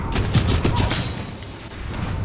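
A Devotion rifle in Titanfall 2 fires a rapid, loud burst of closely spaced shots, then the bursts fade into a lingering echoing rumble.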